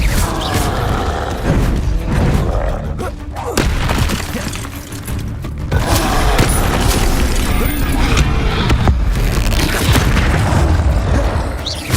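Spell-casting explosions in the Hogwarts Legacy video game: loud, dense booms, crashes and shattering bursts that follow one another continuously, with a game voice shouting spell names over the blasts.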